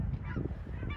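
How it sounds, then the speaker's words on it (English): Cackling geese honk overhead at Fort Flagler State Park, several birds calling in quick overlapping bursts, fairly close and clear above a low steady rumble. "Cackling geese above us."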